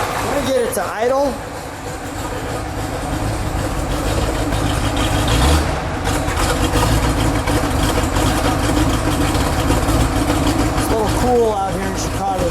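A 1970 Plymouth Superbird's 426 Hemi V8 idles with a steady deep rumble close by, while someone talks over it now and then.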